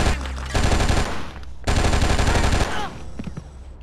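Rapid automatic gunfire from the video game Oni, loud and close, in two long sustained bursts separated by a brief pause, with the shooting trailing off near the end.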